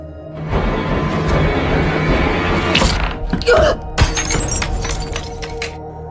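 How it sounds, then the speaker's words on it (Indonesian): A glass picture frame drops and shatters in a tense scene from the film A Quiet Place, with a sharp crash and scattered tinkling shards over a dense rumbling background, then lingering clinks. "tanpa sengaja melepaskan bingkai foto yang dia pegang, yang mengakibatkan bingkai foto tersebut pecah dan membuat suara yang cukup berisik"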